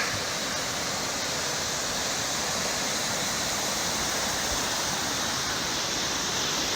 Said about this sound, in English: But at the end of that road, found this waterfall.